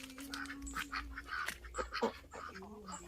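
Farm ducks quack and call in quick, scattered bursts, close by and fairly soft, with a low background hum.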